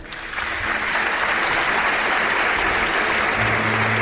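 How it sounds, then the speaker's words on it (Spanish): A large audience bursts into sustained, even applause for a guest being introduced at a talk event, building within the first half second and holding steady, loud and close. "Os pido un aplauso para él."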